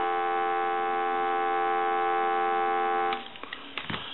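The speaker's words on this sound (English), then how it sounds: "Give you some dial tone." A steady electronic dial tone from a Snoopy and Woodstock novelty telephone hums for about three seconds, then cuts off into faint clicks and clatter.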